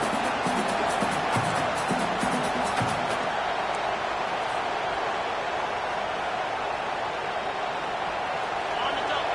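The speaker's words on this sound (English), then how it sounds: "This crowd busting the decibel meter and trying to will a 4th down stop" A stadium crowd roars in College Football 25 ahead of a 4th down stop, a loud, dense, unbroken wall of cheering noise, with a commentator's voice running over it early on.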